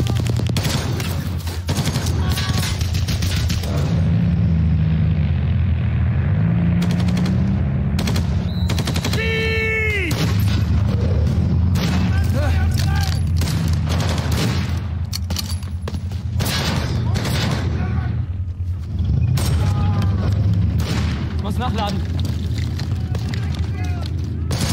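Machine-gun fire and explosions from the war film 9. April, about the German attack on Denmark in 1940, with armored vehicles: sustained bursts of shooting and heavy blasts filling the scene, with dense battle noise throughout.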